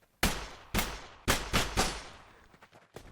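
Gunshots fired in the VR game Blade and Sorcery with a custom hit sound: four sharp, loud reports, the last two close together, each with a short ringing tail, fading to quiet.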